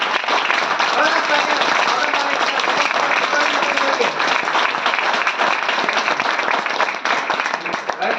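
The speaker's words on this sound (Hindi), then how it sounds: "तो जबरदस्त तालियां वेस्टीज मैनेजमेंट के लिए।" A large audience at a Vestige company event claps loudly and continuously, a dense, steady wash of applause filling the whole stretch with only a slight dip near the end.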